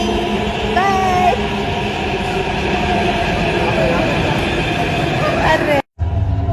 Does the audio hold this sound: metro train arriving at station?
yes